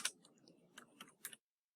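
A few soft, quiet clicks from a computer keyboard, spaced irregularly over about a second and a half before falling silent.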